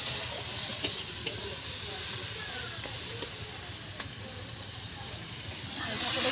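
Chili powder and other spices frying in a pan for a thin country-chicken curry while being stirred, a loud, steady, close hiss and sizzle with a few faint utensil clicks.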